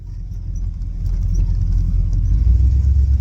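A Ford 351 Windsor V8 runs in a classic catering truck, a loud, close, steady low rumble that swells slightly midway and holds a rough, even idle.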